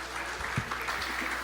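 Audience clapping for Pakistan's Consul General at an Iqbal Day 2017 lecture event in Canada, a steady wash of applause from a crowd throughout the short moment.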